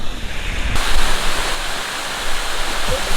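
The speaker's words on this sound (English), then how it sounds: "We're swimming in the waterfall!" A waterfall in Taiwan where people are swimming: a steady, close, full-bodied rush of falling water that roars continuously with no break, with no voices standing out.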